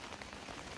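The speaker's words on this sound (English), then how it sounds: "It started raining more and more, so I decided just to hunker down in here basically." Rain falls steadily on a tent and tarp at a backcountry trail campsite. It makes a soft, even patter with scattered drops that carries through the whole short stretch, with no voices.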